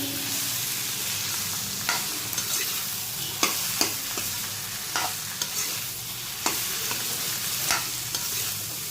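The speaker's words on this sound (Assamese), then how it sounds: "এইখিনি ভালকে মিক্স কৰি লম" Boiled, roughly mashed potatoes stirred into fried spices for a dosa filling, making a constant close sizzle with repeated sharp scrapes and taps of a spoon against the pan every second or so, with no voices.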